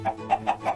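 Four quick chicken clucks from Minecraft in an even rhythm, close and moderately loud, over less than a second.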